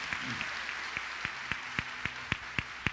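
A church congregation applauds steadily, with rhythmic claps growing louder and more regular over a dense wash of clapping.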